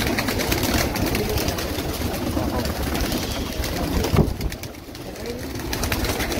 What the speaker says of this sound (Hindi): डबल कबूतर आ रहे हैं